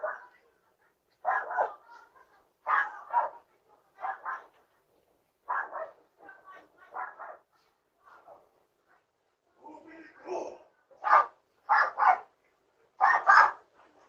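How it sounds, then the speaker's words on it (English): A dog barks repeatedly in short clustered bursts while a neighbor walks it outdoors, heard at a distance against near silence, with some yips between barks. "Right there's a neighbor walking their dog."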